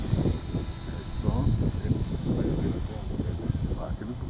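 A high, steady electric whine from an Align T-REX 450X RC helicopter hovering nearby while people talk over it.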